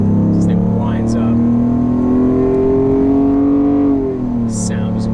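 A 2001 BMW 750iL with a Dinan-tuned V12 pulls hard at full throttle from inside the cabin, its engine note climbing steadily for about four seconds before a shift drops the pitch, loud and continuous.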